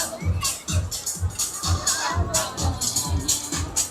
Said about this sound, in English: Look at it, look at the crowd.